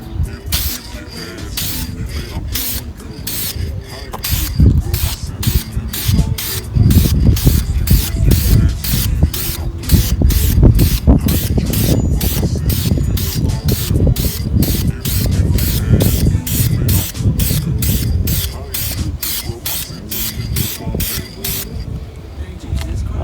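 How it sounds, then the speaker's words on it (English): Clear coat sprayed from a spray can onto a masked car headlight, heard as a long series of rapid, close, loud hissing bursts in quick rhythm, with a faint rattle and low background rumble beneath. "And we're gonna spray it like that, and that's the reason for the masking tape."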